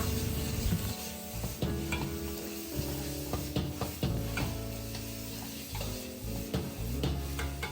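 Vegetables fry in a pot with a continuous close sizzle, as a utensil scrapes and knocks against the metal in an uneven stirring rhythm.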